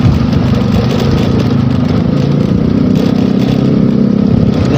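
A motorcycle engine runs steadily at close range on a hilly road, a loud continuous rumbling drone with an even throb and no pauses or talking.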